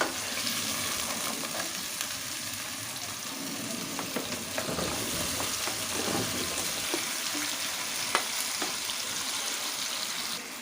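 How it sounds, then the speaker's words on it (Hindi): Garlic, ginger, potatoes and tomatoes frying in a pot for an aloo gosht curry, giving a steady close-up sizzle with occasional stirring clinks and scrapes and no talking. "और अब मैं इसको 2 से 3 मिनट तक भून लूँगी।"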